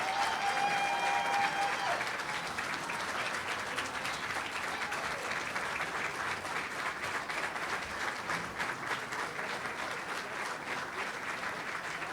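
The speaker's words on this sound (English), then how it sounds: "give her a round of applause" Prolonged crowd applause at an MLK Jr. prayer breakfast, even, dense clapping holding steady for several seconds at a moderate, slightly distant level, with faint murmurs and a brief tone early on.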